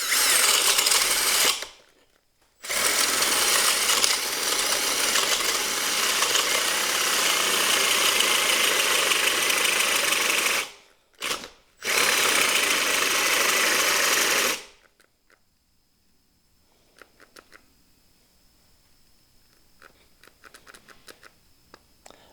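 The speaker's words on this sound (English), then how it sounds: "I'll try to drill another hole right next to these here." A Milwaukee cordless drill bores a hole, its loud motor whine running in two long bursts broken by short pauses, then cutting off and leaving near silence.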